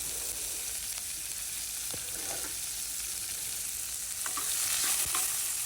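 Sliced onion sizzling in hot oil in a pan for a homemade fish curry, a steady close crackle with a few scraping stirs and light clinks, growing slightly louder toward the end, no voices.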